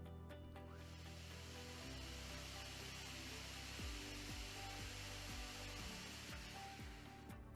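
A Wadkin Bursgreen WB 1200M panel saw runs with a steady motor hum and whine, then its blades spin down in repeated falling whirs. The sound is distant and fairly quiet, and no voices are heard.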